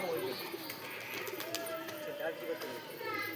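Low pigeon coos roll on at a pigeon-trading loft as birds are released to fly, fairly faint and steady, with some light chirps and a quiet murmur of human voices.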